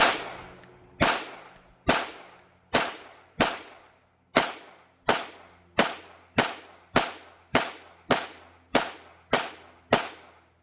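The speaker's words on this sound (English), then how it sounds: "let me shut up and shoot for you real quick" A Sig Sauer P365 Macro pistol fires about fourteen sharp, loud, close shots in a steady, evenly spaced rhythm, each crack ringing out with a short decaying echo, with no talking.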